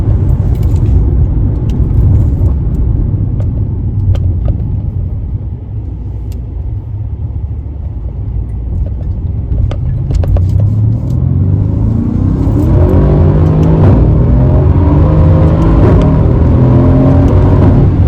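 A Mercedes C63 AMG driven hard along Polish country lanes: a loud, continuous engine rumble that dips, then swells as the car accelerates, with rising rev tones building toward the end.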